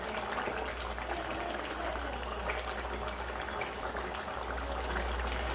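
Egg curry in coconut milk boils in a pan, giving a steady low bubbling and simmering hiss throughout. It is moderately quiet and close, with no speech.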